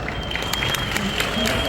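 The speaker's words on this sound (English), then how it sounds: "Everybody a round of applause." Audience applause at a Sophia robot event at the ASI Summit in Antalya, Turkey: a dense, steady wash of many hands clapping, moderately loud and continuous throughout.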